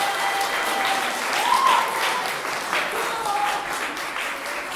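An audience at a February 2023 artistic stage show in Dour gives performers a sustained round of applause, dense steady clapping filling the room throughout without a break.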